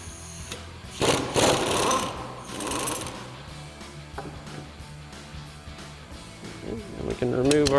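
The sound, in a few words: loosening spring tension on a strut spring compressor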